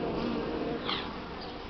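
Buckfast honey bees hum steadily at a hive, a dense, continuous buzzing that stays even and close with no voices.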